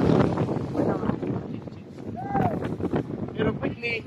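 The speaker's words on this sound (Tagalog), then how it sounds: "medyo malakas yung hangin." Strong winter wind buffets the microphone on a boat trip near an island in Siargao, Philippines, a constant rushing roar with gusts throughout and faint voices mixed in.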